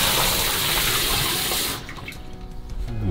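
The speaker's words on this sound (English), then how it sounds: "All right, now I'm going to flush it all the way." An RV toilet is flushed fully: a loud, close rush of water lasts under two seconds, then cuts to a quieter trickle of refilling water.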